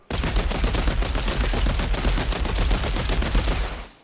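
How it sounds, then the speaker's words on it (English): Rifle in Outriders firing nonstop for about four seconds, a loud, dense stream of rapid shots with no pauses before cutting off abruptly. "This is how fast my gun fires in 5 seconds."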